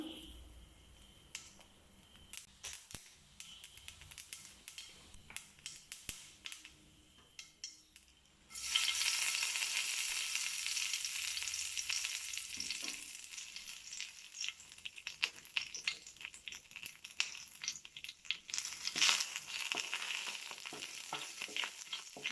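Mustard seeds and curry leaves fry in hot coconut oil, a quiet crackle with scattered pops at first, then a loud, steady sizzle bursts in and continues with sharp spitting crackles and occasional stirring.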